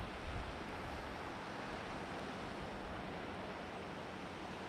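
Ocean waters near a city give a continuous, soft surf wash mixed with wind rumble. The hiss stays steady and faint, with no distinct break and no voices.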